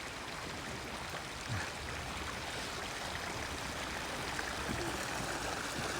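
River water flowing below a Japanese garden, a continuous, even rushing and trickling wash heard fairly close with no other sounds.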